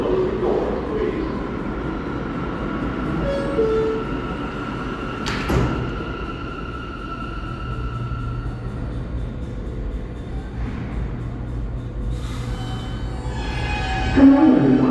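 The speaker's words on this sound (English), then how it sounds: "This is a World Trade Center bound E train." A World Trade Center bound E train of R160A or R179 cars at Spring Street station in New York: doors slide shut with a thud, motors hum, a chime sounds, and an announcer speaks over the platform noise.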